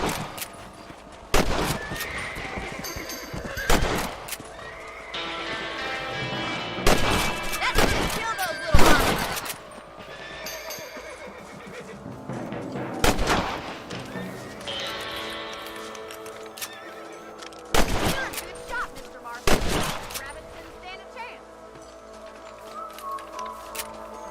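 Rifle shots ring out in Red Dead Redemption while hunting rabbits, a string of sharp, loud cracks at irregular intervals, some close together, over quiet outdoor ambience.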